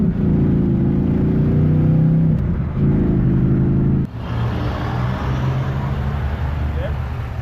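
A Toyota MR2 fitted with a swapped Audi V8 drives along, its engine droning steadily with a rise in pitch and a brief dip, then continuing as broad road and wind roar, loud and close throughout.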